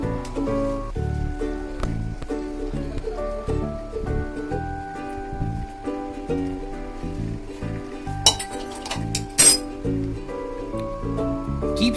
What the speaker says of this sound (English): Keep stirring it so that it doesn't get stick to the bottom.